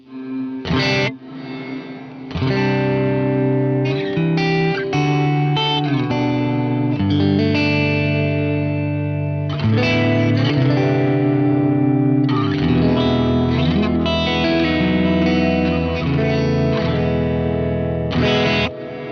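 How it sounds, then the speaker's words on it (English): Distorted electric guitar chords and notes ring out loudly through a Walrus Audio R1 reverb pedal, washed in a spacious, delayed reverb that swells after each strike and sustains into a dense wall of sound. "it's actually going to delay the reverb after I hit the note."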